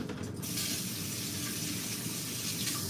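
A kitchen tap runs in a steady, loud rush of water as hands are washed beneath it, during home cooking of pork chops, with no talking.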